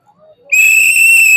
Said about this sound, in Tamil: விசில் ஊதுங்க.